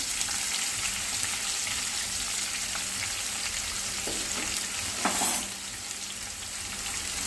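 Steady, dense sizzling of bitter gourd pieces frying in hot oil, with a brief louder crackle near the end; no voices.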